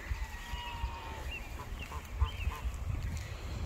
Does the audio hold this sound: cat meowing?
no